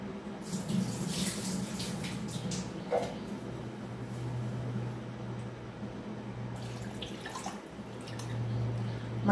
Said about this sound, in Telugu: ఒకసారి ఇట్లా కడిగేసుకొని వాటర్ బారేసి